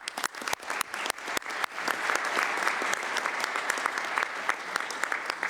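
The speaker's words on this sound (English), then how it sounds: "I would like all of you to thank and by applauding the team." A meeting audience at a global skin neglected tropical diseases conference claps for the team. A few scattered claps quickly swell into sustained, even applause that fills the room until the end.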